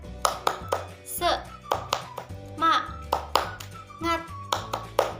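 An Indonesian primary classroom of children performs a rhythmic chant with claps, sharp hand claps landing in quick patterned bursts while voices chant along.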